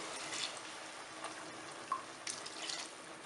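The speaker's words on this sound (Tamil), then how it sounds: "ஆறு கப்பு தண்ணி விட்டுக்கிறேன்" Water being poured into a cooking pot of koottanchoru with tamarind paste, a faint, steady splashing trickle heard close by with a couple of brief louder splashes and no talking.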